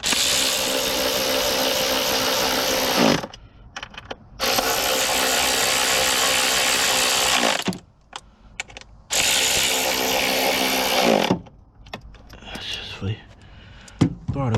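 Ratchet clicking in long bursts while tightening intake bolts on a 1999 Chevy Silverado during an intake gasket replacement, close and loud, with short pauses between runs and some quieter mechanical handling in the gaps.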